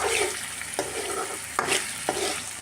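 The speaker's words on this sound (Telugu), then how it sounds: "మనం ఈ ముద్దని ఆయిల్లో ఫ్రై చేసుకోవాలి." Raw turmeric paste sizzles in oil while a spoon stirs it, giving a steady frying hiss broken by a few sharp scraping knocks against the pan, close and with no voices.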